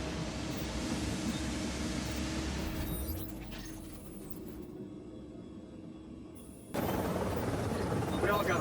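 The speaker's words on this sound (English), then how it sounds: "Chopper is inbound." Helicopter in the video game The Division arriving, a steady loud rotor drone with engine rumble that dips midway and then swells back up close.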